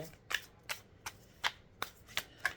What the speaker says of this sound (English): Then I end up kind of like over shuffling them again until I feel like it's really shuffled well.